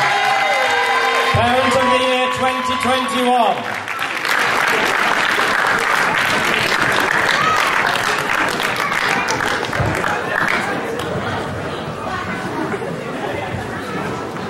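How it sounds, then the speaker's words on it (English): Applause and cheering erupt for a parent award winner at the Colebrooke Awards 2021, loud and sustained with crowd chatter and a whoop, after a brief stretch where someone speaks over music. "Big round of applause for Mandy."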